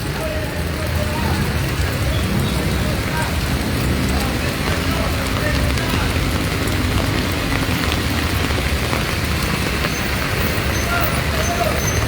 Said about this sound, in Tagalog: Itong kasalukuyang ulan na bumubuhos.